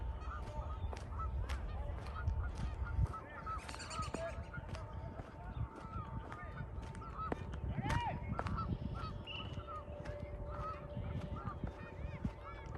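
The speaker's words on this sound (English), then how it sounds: "you can hear the geese honking up here." Geese honking on a grassy field in a park along a walking trail; repeated short honks from several birds at a moderate distance over faint outdoor background noise.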